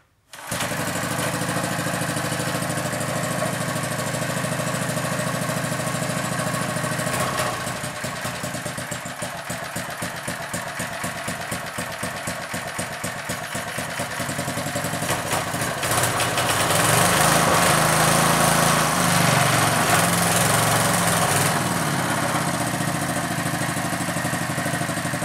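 A restored 1971 small engine runs steadily and loudly the whole time after reassembly, with a buzzing, droning note that shifts slightly and grows a little louder partway through.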